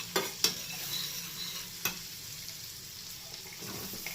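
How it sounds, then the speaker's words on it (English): Vegetables being lightly sautéed in a pan for orange carrot soup made with orange peels, a soft faint sizzle with a few sharp utensil knocks and stirring scrapes early on, no talking. "So you just need to slightly saute it, and then we'll add the onions."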